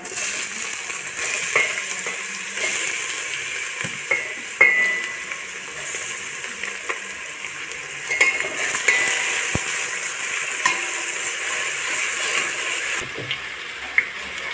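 Onion fries with ginger garlic paste in a pan for Punjabi kadhi pakora, a bright, steady sizzle under repeated stirring strokes and occasional utensil clinks, close and loud with nobody speaking.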